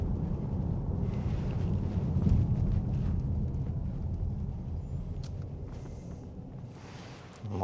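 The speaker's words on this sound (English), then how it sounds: "So let's drive down Church Lane here in Brinsley." A car driving down Church Lane in Brinsley, heard from inside as a steady low engine and road rumble with some wind noise, continuous and fairly loud throughout.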